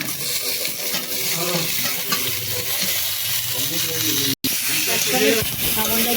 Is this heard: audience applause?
no